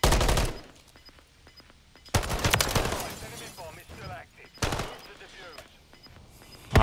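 Loud bursts of automatic gunfire from a Call of Duty Search and Destroy ranked match crack out in three or four separate volleys, with quieter stretches between them where faint game sounds and a voice can be heard.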